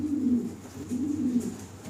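Arabian pigeons cooing in repeated low, throaty bursts, close and steady, with no talking.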